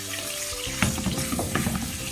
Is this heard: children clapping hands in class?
no